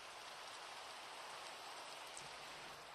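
Rain falls steadily in a video game as an even, close, continuous hiss of drops that holds unchanged throughout, with no voices.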